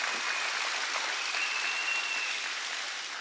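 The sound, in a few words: church congregation applauding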